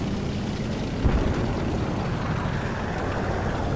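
Steady propeller engine drone of a P-38 fighter plane in War Thunder, a continuous mid-loud rumble with a brief swell near the start, heard alone without talk.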